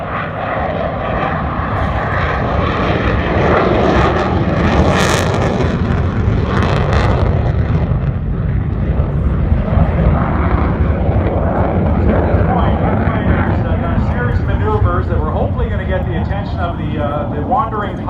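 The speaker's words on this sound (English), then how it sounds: "we will send up the fighter aircraft to do just this" An F-16 fighter jet flies in a NORAD restricted airspace demonstration at EAA AirVenture, a loud continuous engine roar swelling and shifting across the whole stretch, with a brief sharp surge midway and an announcer's voice running underneath.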